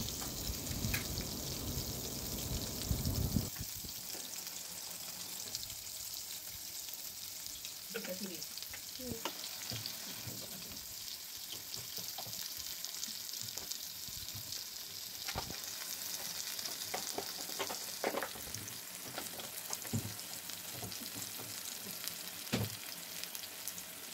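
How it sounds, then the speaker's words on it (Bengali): Potatoes fry in oil in a kadai with a steady, dense sizzle that runs continuously, close and fairly loud, with a few brief crackles and clatters on top. "एबार आमरा भाजबो आलू और फुलकपिगुलो।"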